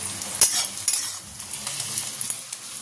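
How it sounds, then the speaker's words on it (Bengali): Onions sizzle and fry in a hot wok (kadai) in a home kitchen, a steady hissing crackle with a few sharp scrapes and clinks of a spatula stirring. "আর কড়াই ভাজি পেঁয়াজ"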